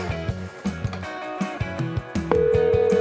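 A telephone being dialled, with a series of separate short tones in an uneven rhythm, followed by a steady continuous tone near the end. No talk is heard.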